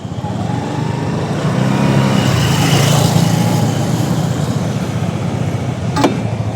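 A Kymco Dollar 150 motorcycle engine idles steadily outdoors, a close, continuous low rumble that holds even throughout with a brief faint click near the end; no one speaks.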